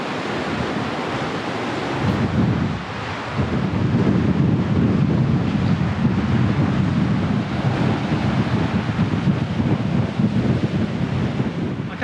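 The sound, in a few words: strong wind on coastal headland, waves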